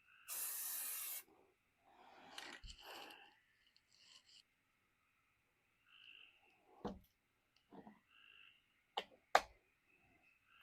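Spray paint coat applied to a Mathews LowPro bow quiver, one sharp close hiss burst lasting about a second, followed by scattered handling clicks and knocks in a quiet room.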